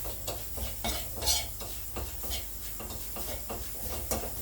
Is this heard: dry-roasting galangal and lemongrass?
yes